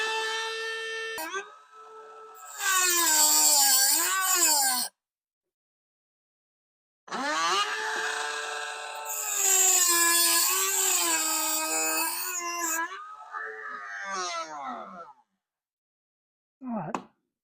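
A power tool grinds through the brads on a sawmill blade in two long bursts and a short final one, its high whine rising and dipping under load, with silent gaps between.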